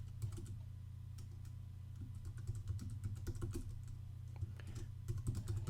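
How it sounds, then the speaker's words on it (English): An email address is typed on a computer keyboard in quick, uneven bursts of close, light key clicks over a steady low electrical hum, with no talking. "what you want to do is type in your email"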